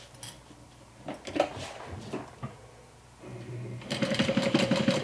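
A sewing machine topstitches the long edge of a fabric slip pocket on a handmade water-bottle sling bag, a steady rapid chatter that swells loudest near the end, with scattered knocks and handling sounds before it.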